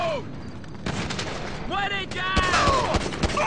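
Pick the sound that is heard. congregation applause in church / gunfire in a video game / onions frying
gunfire in a video game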